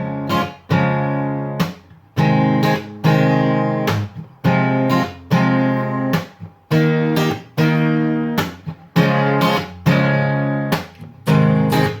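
An acoustic-toned guitar strums a four-chord progression from a song in short rhythmic bursts of full chords with brief gaps between, close and unaccompanied.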